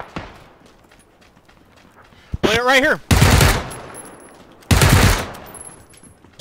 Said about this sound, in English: There's lots of gunfire everywhere.